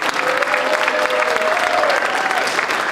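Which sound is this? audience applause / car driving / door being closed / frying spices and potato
audience applause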